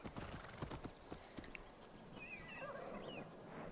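In the video game Assassin's Creed Valhalla, hooves clip-clop at a steady walking pace, followed by a horse's whinny, all set against a soft outdoor ambience.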